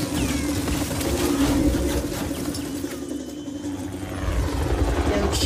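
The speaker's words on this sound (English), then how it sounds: "Choppers." Helicopters in the video game Just Cause 4, rotors chopping loudly and steadily throughout with engine drone beneath, the sound swelling and easing slightly as they move around.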